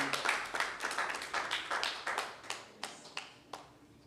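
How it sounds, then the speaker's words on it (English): An audience at an exchange-program presentation claps in a loose burst of quick, sharp hand claps that thin out into a few scattered, fading claps, fairly quiet and with no one speaking. "Can you clap for doing that?"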